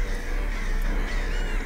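Crows caw throughout a dense forest ambience in the video game Carried By Crows, forming a steady, busy wash of bird calls with no one speaking.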